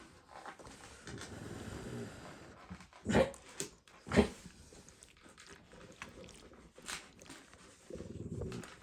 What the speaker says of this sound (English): They're growling because it's supper time.